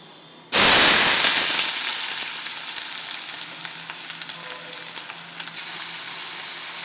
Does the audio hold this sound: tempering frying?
yes